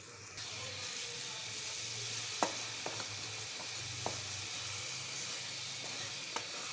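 Chopped onions sauté in butter in a pan for a butter chicken curry, giving a steady, even sizzle with a few sharp utensil clicks scattered through; no one speaks.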